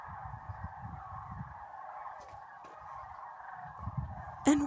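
A large flock of birds near Oakville, Washington, with faint massed honking calls blending into a continuous distant chorus and a sharp noise at the very end.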